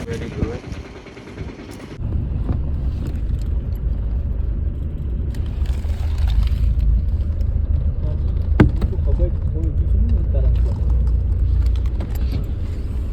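Car ride toward Aru Valley in Kashmir, a steady low engine and road rumble from inside the vehicle filling the clip after a brief quieter opening, with occasional knocks.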